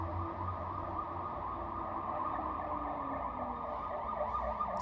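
An emergency vehicle siren wails steadily outside, moderately faint and continuous with a low road rumble beneath, and no voices.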